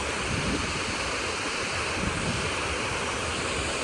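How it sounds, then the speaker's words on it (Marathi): A river overflowing into a waterfall roars steadily and loudly, a continuous broadband rush of falling water with no break. "ओव्हरफ्लो बघा, धबधबा."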